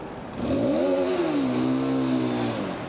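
A 125cc Aprilia RS125 motorcycle engine with stock exhaust revs up hard with a rising, buzzy whine, holds a high-pitched drone near redline, then eases slightly; loud and close, no talking.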